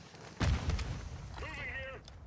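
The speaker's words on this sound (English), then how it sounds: "Throwing grenade!" Grenade explosion in Call of Duty Warzone 2.0, a sharp near blast with a crackling tail, after which a short radio-style voice comes in over it.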